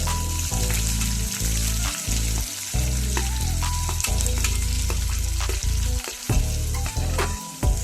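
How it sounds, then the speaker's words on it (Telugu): Chopped onions and curry leaves sizzle steadily in hot oil in a pan, a continuous loud frying crackle broken by the regular scrape and clatter of a spatula stirring. "కరివేపాకు వేసి బంగారు రంగు వచ్చే వరకు బాగా వేయించాలి."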